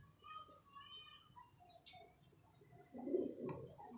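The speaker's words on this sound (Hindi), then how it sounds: "ये जौनसरा कबूतर" A Jaunsara pigeon coos softly in a pigeon loft, with a few low, rolling calls alongside faint chirps and bird noise. A voice speaks quietly in the background.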